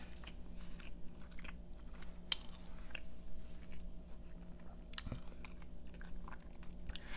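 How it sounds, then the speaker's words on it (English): Close, steady chewing of a Vietnamese banh mi sandwich, with soft wet mouth sounds and occasional crisp crunches from the bread over a faint low room hum and no talk. "my jaw's already getting tired from all the chewing"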